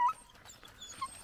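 A hunting hound whimpers near the microphone on a bobcat hunt in the woods, with one sharp yelp at the start, then soft, faint whines.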